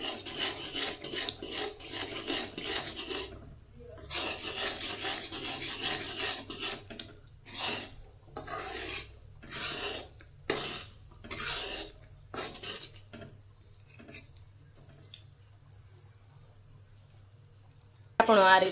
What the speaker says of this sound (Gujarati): આપણે આ રીતે ગોળને હલાવવાનો ઘીમાં નાખીને